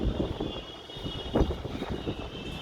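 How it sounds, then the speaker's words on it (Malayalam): Wind rumbles and gusts against the microphone in a low, uneven roar, fairly quiet overall, ahead of a coming rainstorm in Kerala. "നല്ല കാറ്റ് വരുന്നുണ്ട്."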